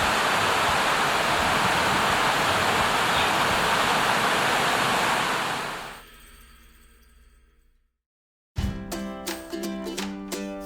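Water rushes loud and constant far below a cliffside road in Taroko Gorge, then fades to silence before music begins.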